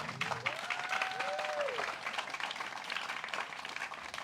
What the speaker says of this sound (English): one more round of applause for Syed Saddiq.